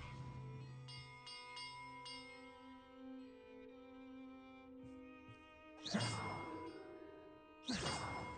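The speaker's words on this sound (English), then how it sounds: "Perhaps the map contains clues about the order I'm supposed to ring the bells in." Bells chime in the video game Hogwarts Legacy as several clear, ringing tones strike in sequence and hang in long, fading resonance, followed by a couple of sharper clanging hits near the end.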